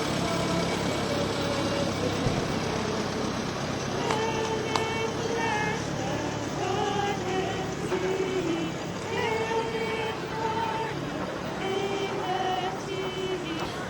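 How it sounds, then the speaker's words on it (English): A Massey tractor pulls a church choir float in a small-town holiday parade, its engine a steady low rumble that runs beneath voices and tonal singing nearby. "a Massey tractor pulling the choir from Sacred Heart Catholic Church"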